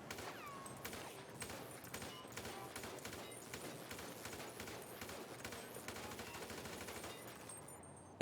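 Video-game gunfire in GTA V strikes an object, a steady string of rapid shots with crackling impacts running throughout, fairly quiet overall.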